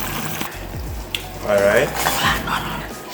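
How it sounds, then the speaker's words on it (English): Garlic powder being stirred into seasoned lobster in a bowl, with scraping and clinking of a utensil and a brief wet stir, while a voice talks over part of it. "Alright, so I'm gonna put some garlic powder. Give it a nice stir."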